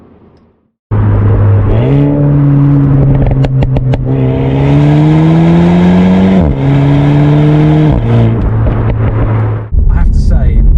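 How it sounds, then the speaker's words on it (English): A Renault Megane RS 300 revs hard up through the gears, then downshifts with a loud rising and falling engine note, crackles and a brief drop before it picks up again, close and dominant. "the soundtrack to this car is simply fantastic. Put your foot down, the way she goes, and then when you downshift, it sounds like an orchestra behind you"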